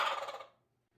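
A turkey hunting call mimics a male turkey's gobble, one loud rapid rattling burst that cuts off quickly into near silence.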